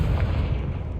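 A Confringo fire spell blast in Hogwarts Legacy, a single loud booming burst with a deep rumbling low end that holds steady for about a second.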